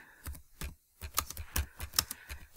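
Quick bursts of keystrokes on a computer keyboard while entering lettering in embroidery software, close and fairly quiet, with a brief pause before a faster run of taps.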